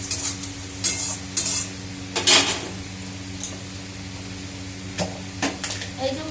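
Ground spice paste with salt and green chilli fried and stirred in a pan, giving a steady low sizzle broken by several sharp scraping strokes of a spoon against the metal.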